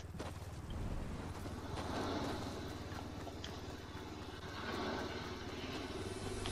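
A distant airplane engine drones steadily in Fortnite, with a low, continuous hum under scattered small thuds and footstep-like taps throughout.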